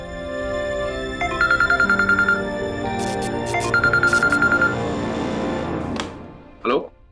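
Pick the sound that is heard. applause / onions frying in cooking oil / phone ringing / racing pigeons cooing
phone ringing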